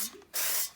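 A short spray of cooking oil hisses onto a steamer tray before dumplings go in: a faint brief puff, then a louder, steadier half-second burst close by.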